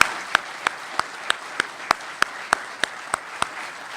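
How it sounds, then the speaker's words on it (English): Sparse, evenly spaced handclaps from an audience at an evening speaker-series event, roughly eleven sharp claps over four seconds in a steady rhythm, moderately close with no talk. "Can we just give a big round of applause for everybody who participated in that tonight?"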